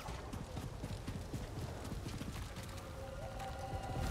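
Footsteps of a rideable creature in the Star Wars Jedi Survivor video game, a steady clip-clop of hoof-like thuds repeating under a dense ambient game background, moderately close and continuous.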